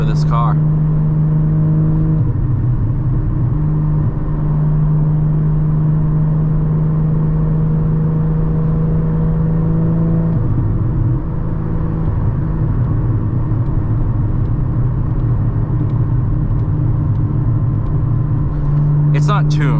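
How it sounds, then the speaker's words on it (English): A 2022 Porsche Cayman GT4 manual with Valvetronic exhaust drones loudly from inside while driving, its steady engine note dipping and rising as revs shift, with brief crackling pops at the start and end. "once you figure out how to make a Porsche burble, you can kind of ride the burbles"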